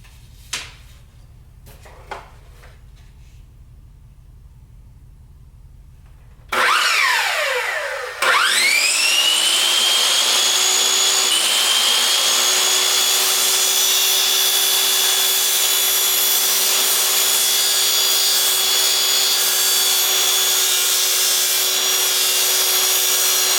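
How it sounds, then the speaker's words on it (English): A chop saw cuts through wooden arrow shafts, its blade spinning up with a loud rising whine after a few faint taps and then holding a steady, loud high whir for a long stretch. "when you're cutting with a chop saw is you want to cut through really slow"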